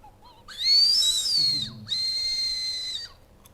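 A strawberry-flavored candy whistle gives two shrill, sustained blasts with a brief gap between them, close and loud over a faint background.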